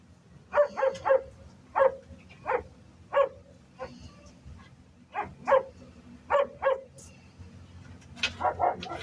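Rescued dogs at a rural property barking, a run of sharp, close barks arriving in quick clusters of two and three, with short yips near the end over a quiet background.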